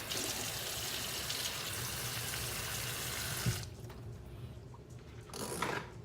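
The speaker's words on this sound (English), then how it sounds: "Wash my hands again. Rinse them off rather." A kitchen tap runs steadily as hands are rinsed beneath it, a close, even splashing rush that cuts off partway, leaving a quieter trickle and a few faint clicks.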